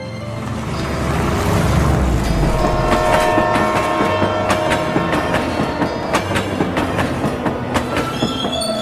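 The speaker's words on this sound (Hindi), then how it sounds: "ट्रेन हवा से बातें करती हुई उनको गांव के स्टेशन पर पहुंचा देती है।" A train rolls along the rails with a rumbling build-up, then steady wheel clatter and metallic squeals, loud and close with no talk over it.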